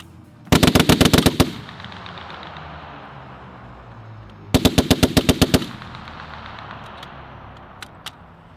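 US Marines test-fire an M2A1 .50-caliber heavy machine gun in two loud bursts of about eight rapid shots each, separated by a few seconds of lingering outdoor ambience and faint distant pops.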